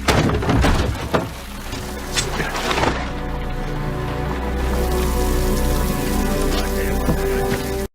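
Heavy rain pours down steadily at night, a dense continuous hiss with a few sharp thunks and drops striking nearby surfaces.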